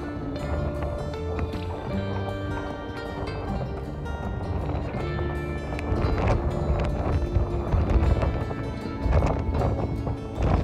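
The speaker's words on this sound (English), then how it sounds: "I can hardly hold my phone, it's so windy." Strong wind buffets a dock where a liveaboard boat is moored in winter, a steady, close roar with gusts that build and rattle, knocking and creaking from boat and dock gear mixed in throughout.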